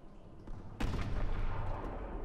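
Gunfire in the video game Call of Duty Advanced Warfare: a sharp, heavy blast hits partway through and rumbles on under a sustained roar of combat noise.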